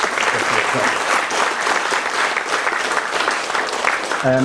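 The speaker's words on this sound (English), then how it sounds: "I'd like you to give her a big round of applause for the work." A crowd at the Community Futures launch in Belmullet applauds steadily, with a thick, even roar of many hands clapping throughout. A voice starts speaking right at the end.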